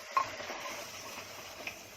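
Ginger garlic mutton with turmeric being stirred and fried in a pan, with a soft steady sizzle and a few light utensil scrapes, faint and close, with no talking.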